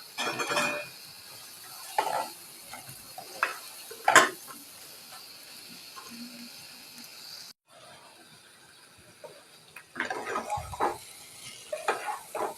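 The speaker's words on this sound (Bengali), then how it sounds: "ভালোভাবে মশলাটা ভাজা হয়ে গেলে এখন দিয়ে দিচ্ছি পেঁচানো পটলগুলো।" Pointed gourds (potol) go into fried spice paste in a pan for Bangladeshi potol korma, bringing sporadic utensil clatter and stirring scrapes over a faint, intermittent sizzle with quiet gaps between.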